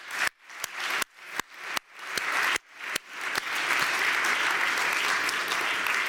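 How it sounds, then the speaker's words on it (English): Audience at an awards ceremony bursts into applause for backstage staff: a few sharp separate claps at first, quickly building into loud, sustained, dense clapping. "let's give a round of applause to the people you don't see on the stage"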